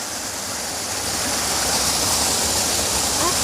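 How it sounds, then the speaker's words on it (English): A small waterfall on a forest creek hike in the North Cascades rushes in a steady, even roar, constant and alone throughout. "There's a little waterfall."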